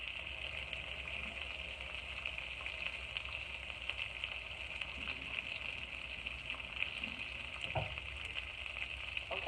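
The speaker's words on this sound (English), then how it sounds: "we're gonna get that going and frying" Salmon fillets and shrimp fry in a pan, a steady, quiet, even sizzle with no voices over it.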